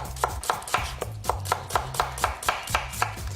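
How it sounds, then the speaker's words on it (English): A knife slices through carrots and onions on a board for a lamb braise, with about a dozen crisp, evenly spaced chops at a brisk steady rhythm, close and distinct with nothing else heard. "Secret of slicing vegetables for braising is not getting too thin."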